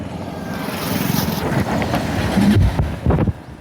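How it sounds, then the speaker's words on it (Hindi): A motorbike engine at a village market in Garumahisani being started outdoors, with low coughing bursts near the end under steady wind-blown rumble. "आम बाइक को स्टार्ट करवा"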